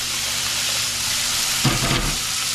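Water poured into a hot pan flashes off with a hiss: a steady steamy sizzle, then a louder burst of crackling and bubbling near the end, close and alone.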